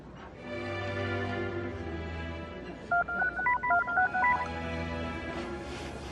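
A telephone is dialed, about ten quick touch-tone beeps in an uneven sequence over a low musical background, with no talking.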